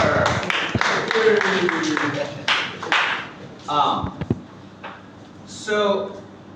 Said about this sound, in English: Hey, let's clap for her.